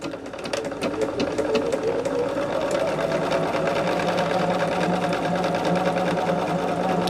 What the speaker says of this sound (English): I'm actually going to sew these rows and take them off as I go